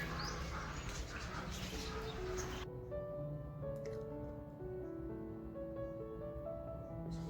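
Several exotic birds in a bird park call at once, with clear whistles and short chirps overlapping at a moderate distance. No one is talking.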